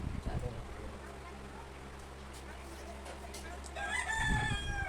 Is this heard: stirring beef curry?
no